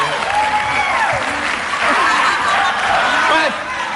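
Steady applause fills the whole stretch, loud and dense, with scattered laughter and voices woven through the crowd noise.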